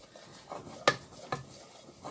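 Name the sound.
mixing plain flour into a paste in a pan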